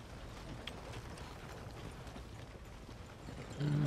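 Horse hooves clip-clop steadily in Red Dead Redemption 2, a soft continuous rhythm at moderate distance, with a louder swell near the end.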